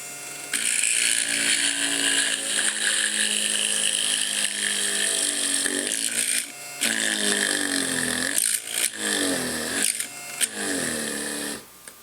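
Innocraftsman mini drill press running at high speed with a slow plunge, a steady high whine from its small motor for several seconds, briefly dipping and surging as the bit bites, close and alone with no talk.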